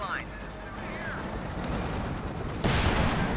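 Gunfire in the Company of Heroes 2 real-time strategy game rattles through a noisy battle mix, building to a loud, dense burst of firing in the final second.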